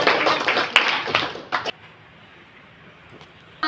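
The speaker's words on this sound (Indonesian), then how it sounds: "kasih tepuk tangan semuanya" A classroom group claps on request for about a second and a half, a brief burst of hand claps that quickly dies into room quiet.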